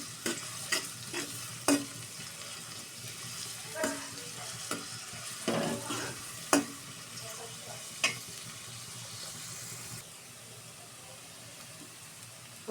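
Onions frying in oil left from frying rohu fish, giving a steady low sizzle broken by repeated scrapes and clinks as the pan is stirred, fairly close and moderately loud with no voices.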